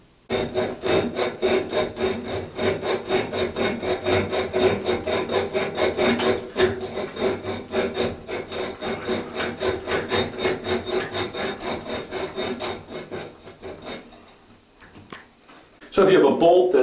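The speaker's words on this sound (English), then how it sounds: "by hand I'm going to saw right through the bolt" A toilet bolt held with locking pliers is sawed by hand with a hacksaw, giving fast, regular rasping strokes close up for a long stretch. The sawing then pauses briefly before a louder burst at the end.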